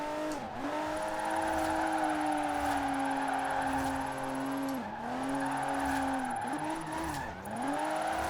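Engine of a slightly sporty family SUV drifting in the racing game Forza Horizon 4, a steady droning rev with continuous tire squeal and brief dips as the car shifts through slides, loud and alone.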